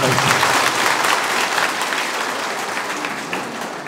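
Audience at a political event in Chikkaballapur clapping together, a dense, steady burst of applause that carries on for the whole stretch and eases off only slightly toward the end.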